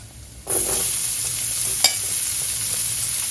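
Onion dropped into a hot pot of browning garlic bursts into a sudden loud sizzle that then holds steady, broken by one brief clink of a utensil.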